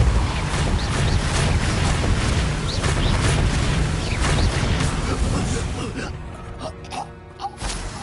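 Spell blasts from Confringo and Depulsor in the video game Hogwarts Legacy, a dense, loud barrage of booming impacts and crackling bursts layered over game noise, easing into quieter scattered hits near the end.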